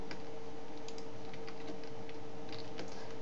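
Keys clatter on a computer keyboard while a Left 4 Dead map is edited, a few scattered quick taps and short bursts at close range over a faint steady hum.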